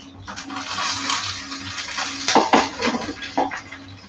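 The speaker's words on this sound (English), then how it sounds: "let's get some of these into our frying pan" Vegan veggie burgers go into a frying pan with clattery pan and utensil contact and light sizzle, a few sharper clunks near the middle, faint talk underneath.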